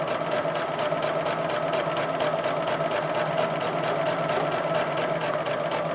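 A sewing machine stitches fan lines on a quilt with a steady, fast, even whir and rapid needle chatter, close and continuous with no talk.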